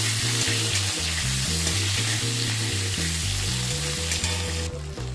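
Long-cut sliced potatoes frying in oil for a Bengali fish curry, a loud dense continuous sizzle with a steady background hum, close up with no speech.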